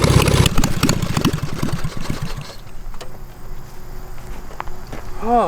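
A 450cc twin-cylinder engine on a push lawn mower runs loud and close, its rapid firing pulses strongest at first, then settling into a steadier, quieter drone.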